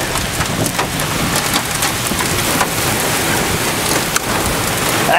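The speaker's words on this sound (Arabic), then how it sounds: "شوفوا قوة هاي العاصفة." Heavy rain pours in a violent storm, a dense steady roar of downpour with gusting wind and a brief louder thump near the end; no voices are heard.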